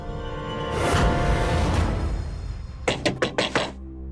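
Knocking on a door: a muffled whoosh, then a quick series of about five sharp knocks near the end, close and fairly loud.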